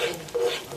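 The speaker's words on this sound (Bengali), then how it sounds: "টক দইটা দিয়ে আমি ভালো করে মশলাটা কষে নেব।" A short stirring scrape and soft sizzle as masala spices are sautéed with sour yogurt in a pan for paneer masala, close and brief with no talking.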